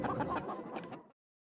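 Chickens clucking on a farm, a dense run of overlapping hen calls and chatter lasting about a second before cutting off abruptly into silence.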